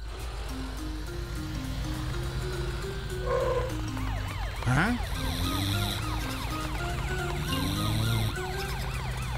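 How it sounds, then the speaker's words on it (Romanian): Loud wailing police car siren in a Romanian-dubbed animated cartoon about patrol vehicles in a town of cars, rising and falling continuously for the whole stretch over a music bed, with brief whooshing effects midway and no talk. "Matt, folosește-și girofarul și sirena ca să-l trezești."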